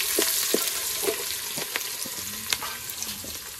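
Onions sizzle and crackle steadily in hot oil with garlic for tempering, with intermittent scraping and stirring knocks from a utensil close by.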